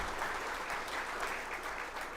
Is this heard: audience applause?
yes